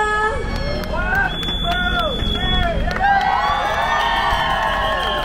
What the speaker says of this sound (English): Give them a big cheer.